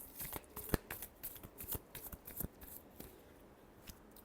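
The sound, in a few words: shuffling tarot cards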